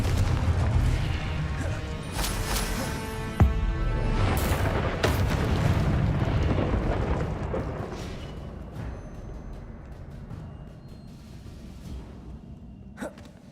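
Blasting spell explosions in the video game Hogwarts Legacy, with a dense roaring rumble broken by several sharp bangs and bursts that fade into a quieter tail with a last small pop.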